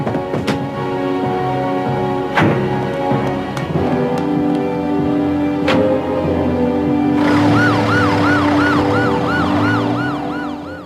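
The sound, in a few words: ambulance siren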